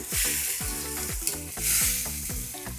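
A spoon works boiled moong, soaked and cooked with salt and turmeric, around a hot pan, sounding as loud rhythmic scrapes and thumps about twice a second over a continuous sizzle.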